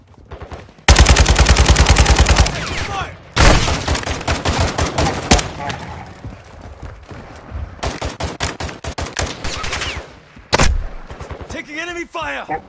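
Gunfire in Warzone DMZ, loud rapid automatic bursts separated by short pauses, with a sustained rattling stretch and isolated single shots near the end.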